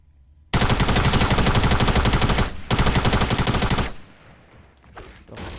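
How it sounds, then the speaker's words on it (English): Rapid automatic gunfire in the video game Fortnite, a loud sustained burst of shots with a brief gap near the middle, then cutting off into quieter ambient game noise. "So somebody are shooting at him."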